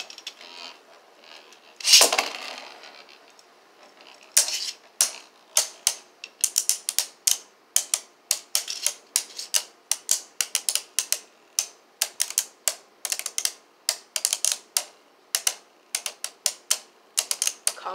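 After a launch, a pair of Cyclone Ragnarok spinning tops battle in a stadium, producing a rapid, irregular series of sharp plastic clicks and clacks as they collide.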